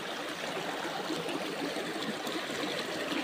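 Creek water runs steadily in a broadband rush, a continuous near flowing stream with light trickling and no talk.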